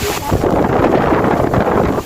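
Strong wind batters the microphone at the Pha Mo I Daeng cliff viewpoint, making a loud, continuous rumbling buffet that briefly dips and then surges again.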